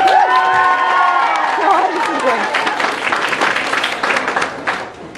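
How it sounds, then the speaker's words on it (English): An audience at an anime convention panel applauds and cheers, a broad wash of clapping and shouts under a speaker's voice that fades out. "Please clap."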